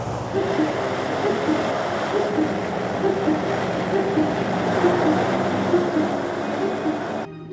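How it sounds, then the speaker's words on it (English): The twin Rolls-Royce Eagle engines of a Vimy biplane run at a steady, loud throbbing drone for takeoff, with a rhythmic low pulsing and no letup until an abrupt cut at the end. "Alcock pushed the throttle on the twin Rolls-Royce Eagle engines and powered the Vimy into the sky"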